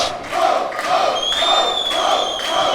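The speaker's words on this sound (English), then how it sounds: "The crowd here at 1720 going absolutely wild for this main event" A wrestling crowd at the 1720 venue in Los Angeles roars and cheers wildly after a main event, with sustained loud shouting, whistles and rhythmic surges of noise.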